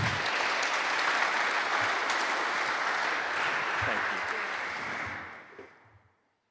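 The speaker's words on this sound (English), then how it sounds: "Big round of applause for Sarah." Enthusiastic audience applause at an ecommerce agency summit keynote in Edinburgh, dense and steady for about five seconds before fading out quickly.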